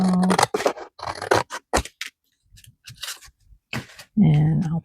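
Scissors snip and slide through paper trimmed from a planner page, brief crisp cuts and scraping strokes close by, with a person talking between and over them.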